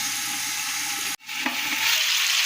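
Seasoned chicken fries in oil with a steady, close sizzle that breaks off abruptly for a moment, then returns, rising in intensity with faint stirring.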